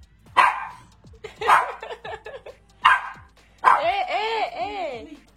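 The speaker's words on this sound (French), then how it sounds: "Est-ce que tu peux nous dire sur quoi tu aboies?" A dog barks several times in short sharp bursts, then lets out a run of higher yips and whines, fairly close, with a steady low hum beneath.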